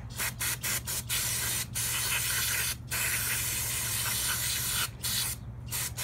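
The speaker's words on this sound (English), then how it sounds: "I don't care if I use this whole can of brake fluid either, or brake cleaner" Brake cleaner hisses from an aerosol can onto the carburetor of a 1997 Honda CR250R, long loud bursts with short pauses between them, close and steady with no talking.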